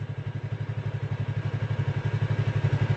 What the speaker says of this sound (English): practice going from first gear to second, slow it down, clutch in